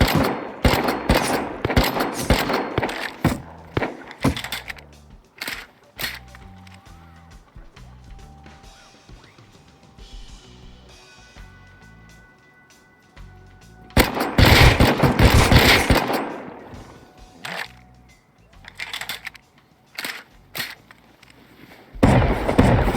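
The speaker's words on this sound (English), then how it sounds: "Did you just fight my shotgun trap?" A shotgun trap going off in the survival video game Rust, with loud bursts of gunfire in clusters near the start, around the middle and at the end, separated by quieter game ambience.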